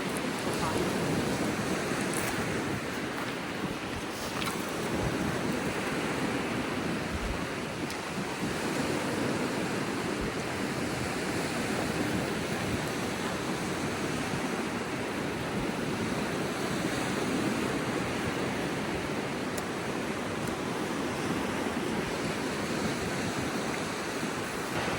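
Wind blows steadily at Little Qualicum Falls, a continuous broadband rush that holds at an even level for the whole stretch with no voices.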